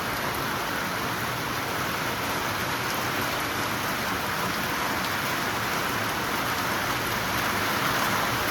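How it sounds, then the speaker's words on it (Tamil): Heavy rain pours down outside a village home at night, a dense, constant hiss of drops on surfaces that stays loud and unbroken from start to finish, with no voices. "வெளியில் மழை கொள்ளுன்னு கொள்ளுது."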